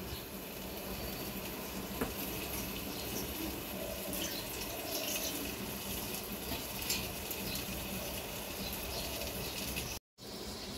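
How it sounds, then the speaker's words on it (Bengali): Water poured onto a metal plate set as a lid over a wok of mutton kosha cooking on the stove, heard as a steady hissing sizzle and trickle with one brief dropout near the end. "এবার এর মধ্যে আমি জল দিয়ে দেব।"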